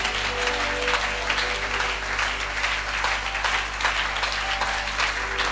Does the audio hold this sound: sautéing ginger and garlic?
no